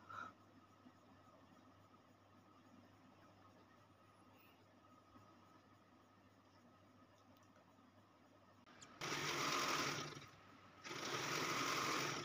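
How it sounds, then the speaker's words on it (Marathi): A sewing machine stitches box-pattern quilting lines through a thick quilt made from old saris, running in two loud bursts near the end after a long stretch of quiet room tone. "याप्रमाणे आपल्याला शिलाई करायची आहे."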